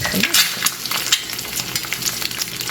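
Hot oil crackles and spatters steadily in a non-stick pan as an egg fries, with sharp pops and a constant sizzling hiss close by.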